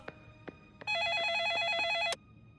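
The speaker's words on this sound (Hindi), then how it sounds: "जरूर डैड का फोन होगा।" A telephone rings once in a warbling electronic trill lasting over a second, preceded by a few soft knocks and followed by quiet.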